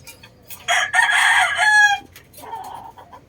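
A JM Fantastic line stud gamecock gives one loud, close crow with a long drawn-out final note, followed by a softer short call.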